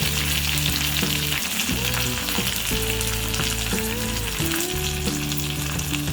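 Eight to ten curry leaves crackle and sizzle in hot oil tempered with mustard seeds and urad dal for a South Indian tomato chutney, a dense, loud, continuous frying hiss up close.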